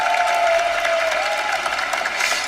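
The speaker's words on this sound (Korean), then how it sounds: "여기 박수 치는 걸로 봐가지고는" Audience applause fills the room, a dense continuous clapping from a crowd, loud and sustained with little talk over it.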